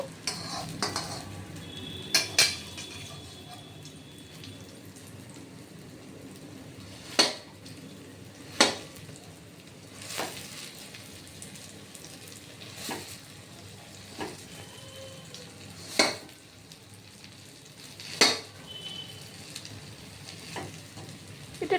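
Frying in a pan until browned, a faint low sizzle with sharp spoon or spatula clinks against the pan at irregular intervals, close and without talk.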